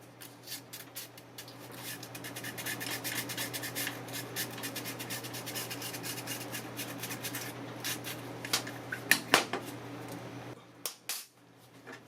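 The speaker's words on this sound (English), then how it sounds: "To achieve this, I am roughing the brake lining with a medium grit sandpaper." Medium grit sandpaper rubs against the brake lining of a Razor MX350 Dirt Rocket electric bike, making a quiet, steady scratchy rasp that runs for most of the stretch and ends in a few sharper scrapes.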